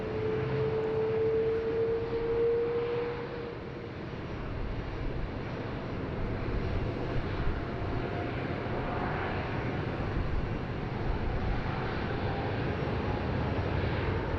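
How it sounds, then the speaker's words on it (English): An Air China airliner takes off from runway 16 right at Sydney Airport, a steady broadband engine roar holding at an even level throughout, with a whining tone early on and wind-like rumble beneath. "And off goes Air China now."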